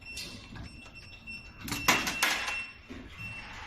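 Philippine peso coins drop into the coin acceptor of a coffee vending machine, a cluster of metallic clinks and rattles near the middle, close and moderately loud over quiet room noise.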